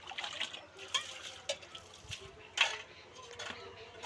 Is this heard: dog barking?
no